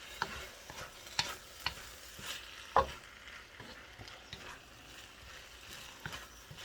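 Parboiled rice stirred through pan juices of a simple chicken biryani, with soft sizzling and a few sharp scrapes and clinks of a utensil against the pan at irregular moments, close by and with no talk.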